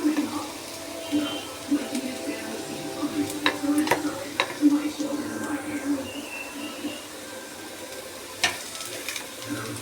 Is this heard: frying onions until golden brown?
yes